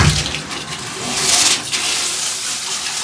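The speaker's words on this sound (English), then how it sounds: "We'll add some water to the bucket." Water pours steadily into a bucket during a cleanout, a broad continuous rushing splash that swells briefly in the middle and then settles to an even flow.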